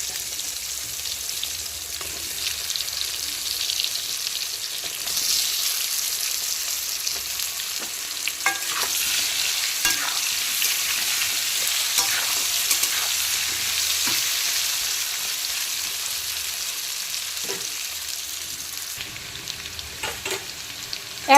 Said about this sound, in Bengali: মাছ ভাজার তেলেই দিয়ে দেব হলুদ মাখানো আলু আলুগুলোকে খুব সুন্দর করে হালকা বাদামি কালার করে ভেজে নেব